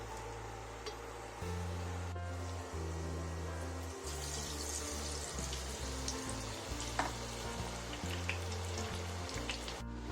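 Spinach leaves fry in hot oil in a home kitchen, a steady crackling sizzle running throughout with low background hum, occasional sharper pops and clinks standing out; no one speaks.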